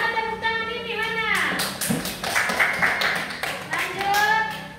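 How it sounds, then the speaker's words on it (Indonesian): A class clapping after a children's poem is read, scattered claps and taps under a talking voice that carries on over them, with a few dull thumps. "Tepuk tangan dulu. Mana tepuk tangan ini, mana?"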